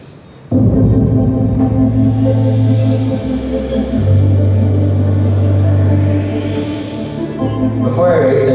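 Michigan solar car driving, a low steady motor rumble and hum that shifts pitch through a few changes, loud and close, with no talk over it.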